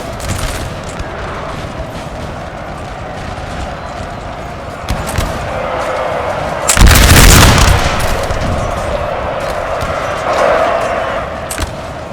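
Musket volleys and artillery fire from a Napoleon Total War multiplayer battle, with Danish grenadiers charging Swedish troops; a dense, continuous crackle of gunfire peaks in a loud burst of shots midway, then a softer swell near the end.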